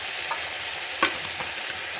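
Vegetables frying in a pan with turmeric, coriander powder, red chilli powder and sambar powder masala, a constant sizzle with a few spoon scrapes and clicks as the mixture is stirred, close and with no talk.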